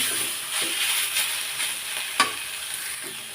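Fresh kalmi (water spinach) greens frying in a pan with a steady close sizzle, broken by a few stirring scrapes and one sharper knock.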